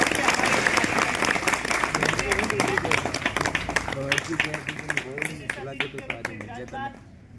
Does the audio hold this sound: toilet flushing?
no